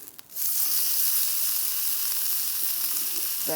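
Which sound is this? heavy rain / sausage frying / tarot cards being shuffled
sausage frying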